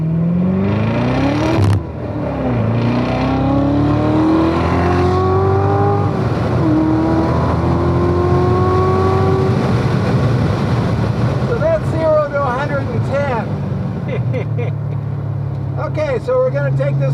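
A race car drives on track at VIR, its engine revving and rising through gears with shifts, loud and close from inside the cabin, while people talk over it.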